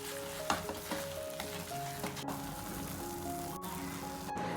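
Vermicelli being stirred in a hot pan for a breakfast kichadi with coriander leaves, giving a steady close sizzle with scraping stir strokes and a few sharp clinks of the spoon against the pan.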